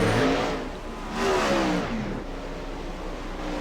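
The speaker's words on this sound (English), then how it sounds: "Listen to those engines go by there." Open-wheel race cars in the iRacing game roar past at Volusia Speedway Park, two loud engine swells rising and fading in quick succession, followed by a steady drone of engines.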